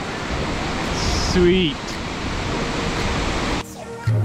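A waterfall in the Arrigetch Peaks of Gates of the Arctic National Park rushes as a steady broadband roar, with a brief spoken word and bird-like chirps over it before the sound drops near the end.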